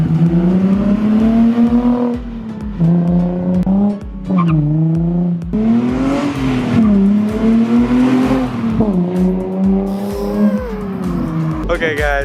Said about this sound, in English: That's so loud. Way more crackle than before, and like it's not as raspy.